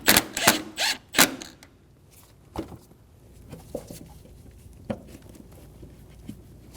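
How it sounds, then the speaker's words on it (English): A bolt is snugged down on an intake manifold bracket in the engine bay of a 2008-2015 Scion xB 2.4L L4, heard as a run of close metallic clicks and ratchet-like taps, then sparse softer clicks at a low level. "Snug the bolt down."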